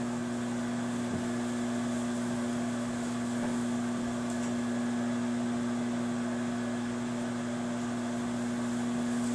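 A microwave oven runs while cooking mushroom soup, a steady loud electric hum with constant fan drone that holds unbroken for nine seconds, close by and with no talking.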